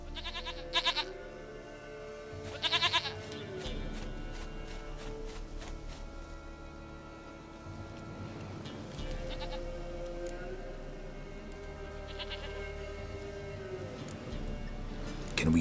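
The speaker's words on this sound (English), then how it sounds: "Goat of mine, dearest, sweetest goat." A goat bleats in the video game Star Wars Jedi: Fallen Order, with several short, faint bleats standing apart over a quiet, steady game backdrop.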